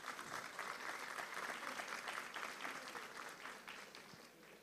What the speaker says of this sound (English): One round of applause, please.